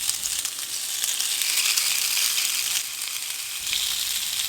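Turkish kaşarlı köfte meatballs with cheese sizzling steadily on a well-heated cast iron grill pan brushed with olive oil, a continuous bright hiss of frying heard close and alone.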